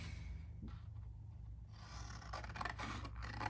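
A sheet of paper is cut for a papercraft envelope holder, giving a close, rasping snip-and-slide sound over a steady low hum, with no talking.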